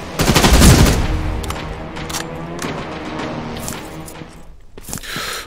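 Loud shotgun fire in a video game blasts in quick bursts, with several sharp shots echoing and decaying, no talking.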